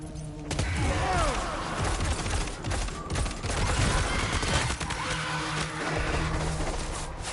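Rapid bursts of gunfire in the video game Death Stranding 2, dense and continuous for several seconds, layered over rumbling game noise with no talking.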